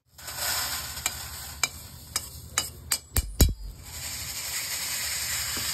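Peanuts roasting with salt in a pan over a wood-fired chulha are stirred steadily, and a run of sharp scraping clinks from the ladle rings out over a faint, continuous rustling hiss.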